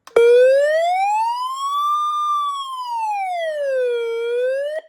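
A loud weather radio alert siren, from a portable unit, wails alone and up close, its tone rising and falling in one slow sweep for about five seconds before stopping abruptly.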